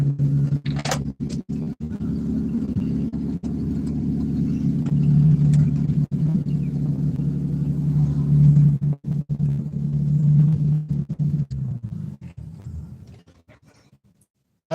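A 1950 Plymouth car's engine runs at a low, steady rumble, close and moderately loud with a few clicks and knocks over it, before fading away toward the end.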